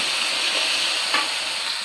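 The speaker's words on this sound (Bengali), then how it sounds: "পেঁয়াজ মরিচ ভালো করে ভেজে নিচ্ছি" Onions and chilies frying in a pan, a loud continuous close-up sizzle with a brief stir partway through.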